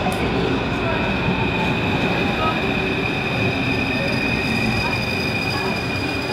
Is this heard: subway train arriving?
yes